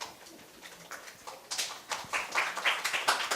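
A school audience at a middle school speaking festival claps for a student's speech, with scattered claps that swell into fuller, uneven applause during the second half.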